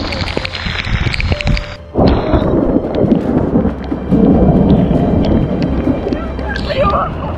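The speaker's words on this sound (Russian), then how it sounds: "Это гроза." During a thunderstorm on the Kinburn spit, a sudden heavy rumble of thunder breaks in about two seconds along with gusting wind noise, rolling on loudly, with faint voices present.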